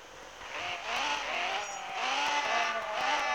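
Racing cars in the mobile game CSR Racing 2 roar steadily through a drag race, engine pitch climbing and dropping with each gear change, plus a brief tire squeal, loud and continuous with no talking.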